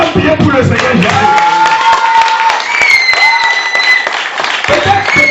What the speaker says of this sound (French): Maintenant, acclame bien pour le Seigneur Jésus.